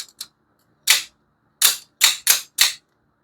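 Sharp mechanical snaps of an automatic knife blade firing out and slamming back in, about seven crisp clicks in short bursts with silent gaps, loud and close with no talk.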